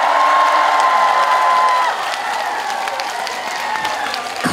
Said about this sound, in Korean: 큰 박수 한번 주시겠어요?